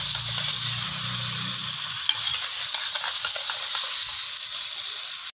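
Rabbit meat frying in a hot pan, a steady close sizzle with stirring scrapes running throughout before cutting off abruptly.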